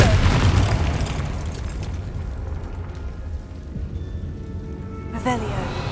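A Confringo blasting spell bursts in Hogwarts Legacy, a deep booming explosion at the start that rumbles and fades over a few seconds, followed by a brief magical chime near the end.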